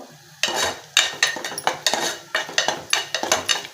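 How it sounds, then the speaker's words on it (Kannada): Ground masala frying in oil in a pan while being stirred, with a spoon scraping and clinking against the metal in repeated rhythmic strokes over a soft sizzle, close and clear with no talking. "ಈ ಮಸಾಲೆನೂ ಚೆನ್ನಾಗಿ ಅದೇ ಎಣ್ಣೆಲೇ ಫ್ರೈ ಆಗಬೇಕಿದು ಹಸಿ ವಾಸನೆ ಹೋಗೋವರೆಗೂ ಫ್ರೈ ಆಗಬೇಕು"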